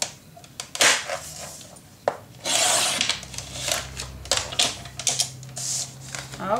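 Paper being scored and cut with a trimmer for a Spring and Ex Libris craft kit: close, dry scraping strokes and clicky taps in uneven bursts, with longer rasping slides mid-way, no talk.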